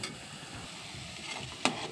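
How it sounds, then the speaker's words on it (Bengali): Palm fruit fritters (taler bora) frying in hot oil give a steady, close sizzle throughout, with one sharp clink or stir near the end. "সব কটা বড়া এইভাবেই ভাজবো।"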